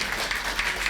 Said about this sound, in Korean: 다시 한번 큰 박수, 격려와 응원 박수 부탁드립니다